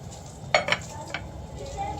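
A spoon stirs sugar, crushed red chili and cumin into plum chutney in a pan, giving a few close scraping clinks over a faint sizzle that settles into quiet bubbling.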